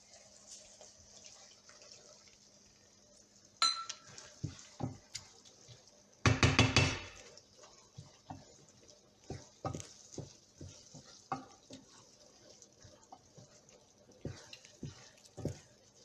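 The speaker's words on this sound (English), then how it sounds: "I'm going to go ahead and add another half cup of liquid" Liquid splashes into risotto in a pan, followed by scattered stirring clicks, scrapes and wet drips against a quiet background, with one loud clattering burst partway through.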